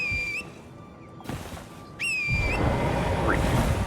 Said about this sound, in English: Three whistles.